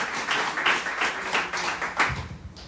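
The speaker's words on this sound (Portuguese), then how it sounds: "Aplauda o Senhor com o seu melhor." A church congregation applauds together, a steady wash of claps close by with uneven swells and no voices over it.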